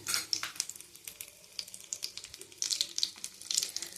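Cashews and chopped almonds frying in hot ghee for chakkara pongali give a close crackling sizzle in irregular bursts with some quieter gaps, with no voices.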